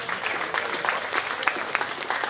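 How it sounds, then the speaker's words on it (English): Audience applause at a county fair 4-H swine show, honoring crossbred breeding gilt exhibitors; steady, moderately loud clapping from a crowd with scattered sharper claps, lasting throughout. "Let's give those crossbred breeding gilt exhibitors a big round of applause."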